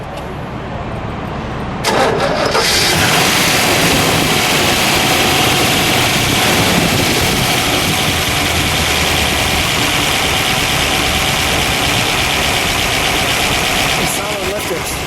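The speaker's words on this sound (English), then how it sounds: "Let's fire it, shall we? Okay. We'll let it idle, and then we'll give it one good rev or two." A 1963 Chevrolet Corvette Z06 with a fuel-injected 327 V8 and solid lifters cranks and catches about two seconds in, then settles into a loud, lumpy idle with a mechanical ticking clatter that continues close by until near the end.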